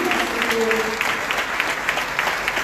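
A church congregation applauding together, dense steady clapping from a crowd indoors with a voice speaking over it.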